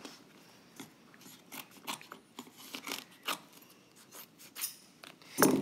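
Sticky scissors trim excess upholstery fabric during diamond tufting, giving a series of short, crisp snipping cuts at an irregular rhythm, close and fairly quiet, ending in a louder final snip.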